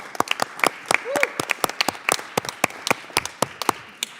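Scattered, sparse clapping from a small group of people at a committee business meeting, individual hand claps clearly separated and fairly close, with a brief voice partway through.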